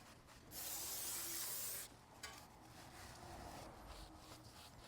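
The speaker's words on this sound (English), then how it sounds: "I'll just hit it with the brake parts cleaner first to get that off" Brake parts cleaner sprayed onto an oily BMW E90 brake rotor, one close, steady hiss lasting just over a second, then a quieter clattering and faint shuffling, with no talking.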